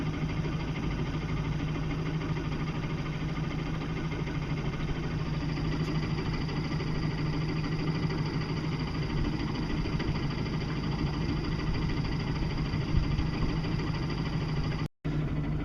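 A small electric motor runs steadily off a lightweight flexible solar panel, giving a continuous mid-pitched hum with a faint vibration, unbroken for the whole stretch until a brief cutout near the end.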